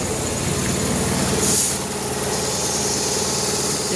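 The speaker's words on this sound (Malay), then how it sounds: "Enjin hidup. Meter mati." A car engine idles on with its steady, droning hum while the dashboard meters are dead. A brief hiss swells in the middle, and the idle otherwise stays constant, with no voices.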